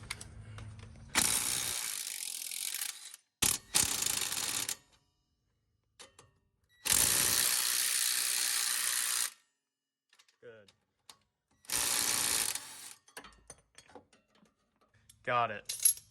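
Impact wrench tightening a coilover clamp on a Ford Focus ST during a Silvers Neomax coilover install, rattling in three loud sustained bursts with short taps between, then some faint clicks and brief talk near the end.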